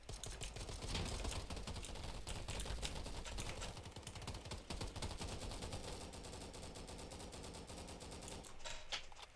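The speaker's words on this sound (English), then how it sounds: "We just have to keep firing." Sustained automatic gunfire in the shooter video game Polygon, a dense rapid rattle of shots, sometimes in short bursts, continuing almost without pause and loud in the mix.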